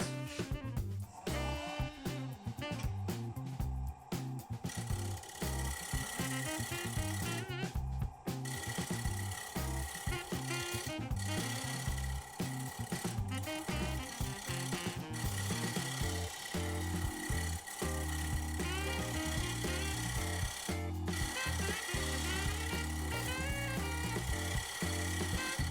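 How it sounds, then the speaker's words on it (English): A shear scraper works over the surface of a turned spalted alder wooden bowl, giving a dense, continuous scraping and rasping with rapid irregular strokes and close, steady loudness. "But I'll shear scrape this and see what happens."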